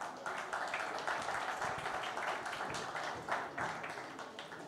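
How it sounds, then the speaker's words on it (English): Audience clapping for presenters at an industry event on ESG reporting, fairly faint and scattered, with distinct claps rippling irregularly for a few seconds. "so a round of applause for them as well."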